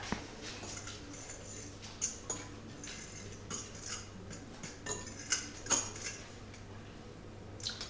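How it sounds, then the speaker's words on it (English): A spoon stirs flour, sugar and bicarbonate of soda together in a bowl, producing quiet scattered clinks and scrapes at an irregular pace, close up with no talking. "Just put that all into a bowl and give it a little mix together."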